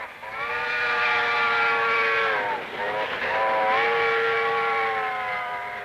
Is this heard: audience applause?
no